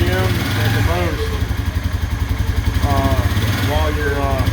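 Rebuilt engine of a 2015 Polaris Ranger 570 runs loud and close during warm-up, holding a steady idle then rising in revs in short surges toward about 3,000 RPM.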